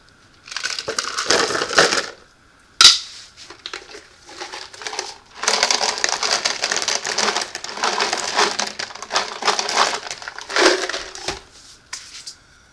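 Metal bullets poured into a jug holding a small amount of powder coat for tumbling make a loud, steady crushing, rattling clatter that stops briefly around a sharp impact, then continues for several seconds.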